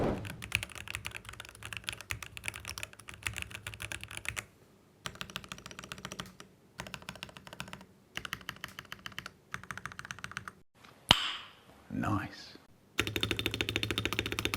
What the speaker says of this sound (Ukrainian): давайте реально послухаємо, який тут тайпінг